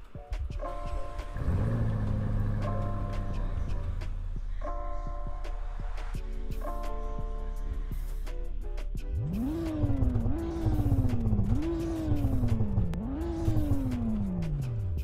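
Porsche Macan GTS with a 440 hp twin-turbo V6 idling, then revved four times in a row, each rise and fall loud and close, with a steady hum underneath.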